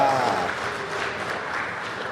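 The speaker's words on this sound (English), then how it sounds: "So have a big round of applause for Simon Fisher-Becker!" Audience applause at a book reading for a Doctor Who actor, a steady wash of clapping filling the room throughout, with some voices faintly mixed in.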